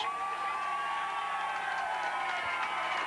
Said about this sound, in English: It's likely the loudest crowd reaction in the history of cars